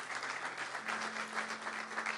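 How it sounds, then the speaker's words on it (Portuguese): Church congregation applauding, a steady wash of many hands clapping with a faint sustained tone beneath, moderately distant and continuous throughout. "Vocês podem aplaudir ao Senhor Jesus pela vida deles?"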